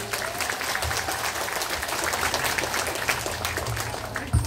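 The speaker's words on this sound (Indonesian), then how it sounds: "Tepuk tangan yang meriah." Loud, steady applause from a gathered religious assembly honouring habaib and ulama at a sholawat majelis, a dense crowd clapping continuously throughout with a low hum underneath.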